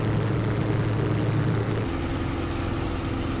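Spitfire IX piston engine droning steadily in Microsoft Flight Simulator, loud and constant, its pitch and tone dropping partway through as the throttle is adjusted.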